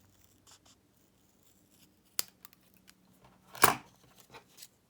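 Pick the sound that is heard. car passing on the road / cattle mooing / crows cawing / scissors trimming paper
scissors trimming paper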